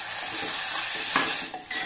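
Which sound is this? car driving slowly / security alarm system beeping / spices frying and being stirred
spices frying and being stirred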